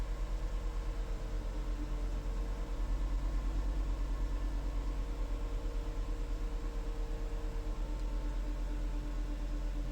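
A Volkswagen Jetta 2.5 engine runs at a steady idle just after its first start following a knock sensor replacement, a constant low rumble heard close up with no talk.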